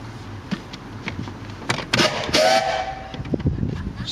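A 1910 Stanley Steamer steam car venting steam while driving, a loud hissing whoosh with a brief whistle-like tone over rumbling road and engine noise.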